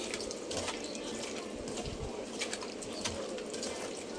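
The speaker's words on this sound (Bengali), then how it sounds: "তো এখন এটা হালকা একটু পানি দিয়ে আমি চুলার উপরে বসিয়ে দেব।" Water is poured into a cooking pot holding marinated chicken and potatoes, a quiet splashing trickle with a few uneven spurts and drips, heard close.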